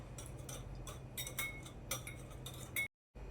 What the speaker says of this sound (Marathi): आणि व्यवस्थित फेटून घ्यायची आहेत अंडी